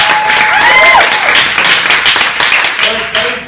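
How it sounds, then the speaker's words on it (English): Audience clapping for comedians at a New York City Fringe Festival show, a dense burst of applause mixed with voices and whoops that tapers off toward the end. "Round of applause for the comedians today."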